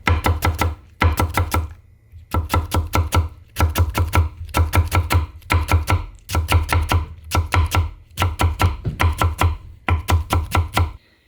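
A knife rapidly shreds cabbage fine on a cutting board, rhythmic bursts of quick close chops in steady groups with brief pauses between them, loud and alone.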